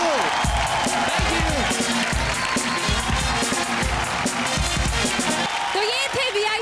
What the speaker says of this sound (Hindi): एक बार जोरदार तालियां वीआईपी के लिए